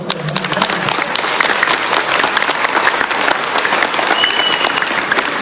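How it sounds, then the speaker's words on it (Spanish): An audience at a religious debate breaks into sustained applause, a dense, even wash of clapping hands lasting the whole stretch without pause. "Aplausos."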